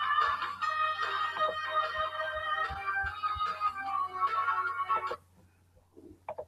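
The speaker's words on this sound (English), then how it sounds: "That's the Are You Afraid of the Dark theme." The Are You Afraid of the Dark theme tune plays from a mobile phone speaker, a thin tinny melody with sustained tones that stops abruptly near the end, leaving faint room noise.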